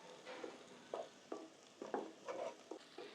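Onions sautéing with a little salt in a pan for Tamil-style crab curry, faint stirring scrapes and soft sizzling in short irregular bursts, no voices.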